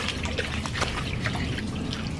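Clear creek water trickling along a hiking trail on Crooked Stick, a close, continuous burble with small drips and splashes, no talk.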